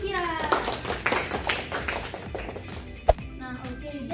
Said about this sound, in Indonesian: Beri tepuk tangan untuk Mira.